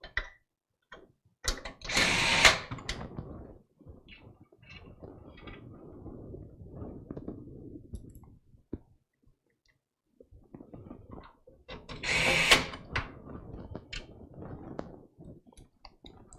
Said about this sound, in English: it's just me putting the screws here into these mounting holes